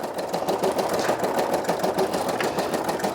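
A Brother SE625 embroidery machine stitches a patch with a rapid, even mechanical chatter and a steady hum, close and continuous throughout, with no voices.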